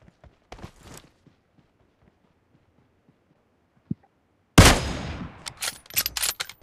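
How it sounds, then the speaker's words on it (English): A flare gun fires in a video game with a sudden loud burst that trails into a hissing whoosh, followed by a few sharper bangs, after faint scattered thumps. "And shoot flare gun."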